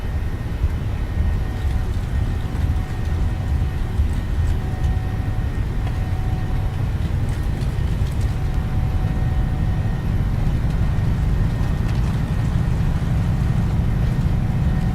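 Ryanair jet airliner engines at takeoff thrust during the takeoff roll, a loud steady low roar and rumble heard from inside the cabin throughout, with no talk.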